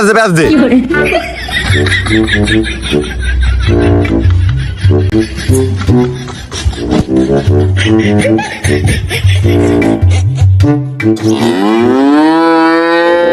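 Cattle being handled and washed by people moo several times, loud and close, amid ongoing chatter and laughter, with a long drawn-out moo near the end.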